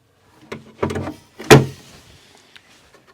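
A Rev-A-Shelf pantry roll-out shelf is dropped onto its runners on an adjustable pilaster system, giving a few close knocks and clicks that build to one sharp clack, followed by faint rattles.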